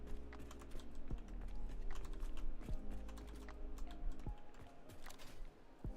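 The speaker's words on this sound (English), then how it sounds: "Did you paste? Jeez, shortcuts. My keyboard's tripping out on me." Clicky computer keyboard keystrokes, including paste shortcut presses, form an irregular quiet series of taps and clacks over a low steady hum, with no one speaking.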